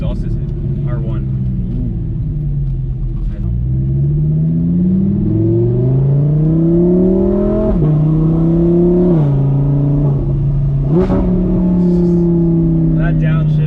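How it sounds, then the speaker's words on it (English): A 2015 Audi R8 V10 engine and exhaust drone steadily while driving, rising and falling in pitch through gear changes, loud and close throughout, with people talking over it. "Especially once you hear that exhaust."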